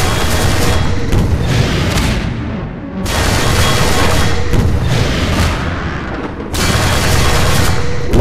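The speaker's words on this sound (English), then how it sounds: "A lot of rockets." Rocket explosions in Half-Life 2 Episode 1: loud, heavy booming blasts that roll into each other as dense, sustained rumbles, with brief dips in between, and no talking.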